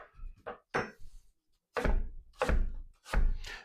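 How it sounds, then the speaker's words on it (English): Knife cutting an apple into half-inch-thick slices on a board, several distinct close thunks of the blade striking through, spaced irregularly with short pauses between cuts. "We are going to cut it into slices."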